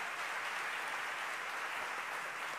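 A concert audience at Sesc Pompeia applauds in a steady, faint wash of clapping that continues without a break.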